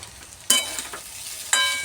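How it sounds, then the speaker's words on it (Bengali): Pasta fried with onions, tomato sauce and chili sauce sizzles in a pan, and two sharp stirring scrapes come about a second apart over the close, steady frying, with no voices. "পাস্তাটা এর মধ্যে দিয়ে দিয়েছি, টমেটো সস চিলি সস দিয়ে নাড়াচাড়া করছি।"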